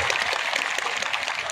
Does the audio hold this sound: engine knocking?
no